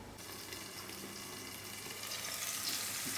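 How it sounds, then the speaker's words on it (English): Oyster mushrooms frying in a lidded pan give a steady, close sizzle and hiss that grows slightly louder toward the end, with no talk. "And now I'll cover this with a lid and let it to come to a fry."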